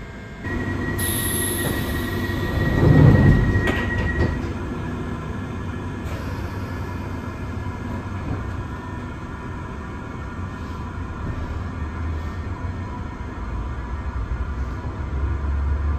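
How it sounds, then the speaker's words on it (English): A London Underground Piccadilly line train runs with a steady deep rumble and roar, a brief louder surge early on and a faint high squeal, heard from on board. "we will be taking the Piccadilly line all the way to Earl's Court"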